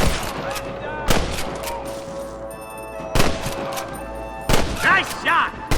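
Gunfire in the Western video game Red Dead Redemption: several loud, sharp shots ring out at irregular intervals, with a few quicker bursts near the end, over a steady musical score and background game noise.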